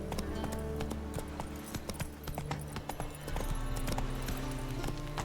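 Roach, a horse in The Witcher video game, clip-clops steadily along at close range with hoof beats sounding against a busy game soundtrack, without any speech.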